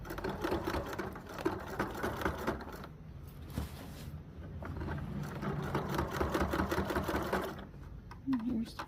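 Sewing machine running in steady bursts of rapid stitching along the edge of a utility kilt seam, overlapping earlier stitches, loud and close with brief pauses, while someone talks over it.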